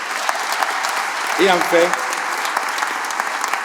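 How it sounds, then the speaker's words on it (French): Applause from the audience at an aviation museum inauguration ceremony in Provence, a broad steady wash of clapping that runs throughout, with a voice speaking briefly over it in the middle. "je vous demande de l'applaudir"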